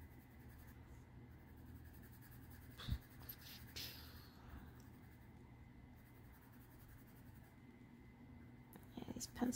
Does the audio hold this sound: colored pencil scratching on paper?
yes